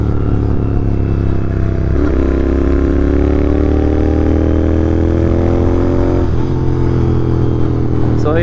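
Several GT650 motorcycles cruise along a highway together, a steady loud engine drone with shifting tones and a couple of gear changes, continuous throughout.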